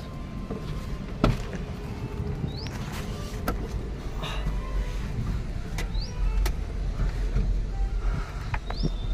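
A loaded vehicle drives into the yard of the Sahyadri maize company in Sangli, its engine a steady, fairly close drone with faint mechanical clicks and whines layered on top, and no voices.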